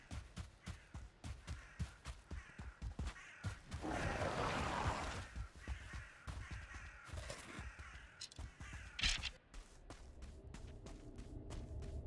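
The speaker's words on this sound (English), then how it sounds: "Sounds like multiple crows." Several crows caw repeatedly in the video game Valheim near a burial chamber, the harsh calls close and clear over soft footsteps and ambient game noise.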